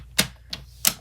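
Paper being cut for a card kit, heard as three short, sharp snipping clicks spaced unevenly over about a second, close and fairly quiet with no talk.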